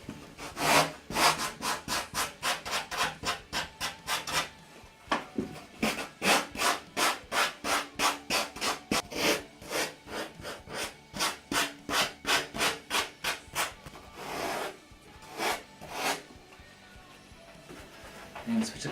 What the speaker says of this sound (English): we'll switch across to a sanding block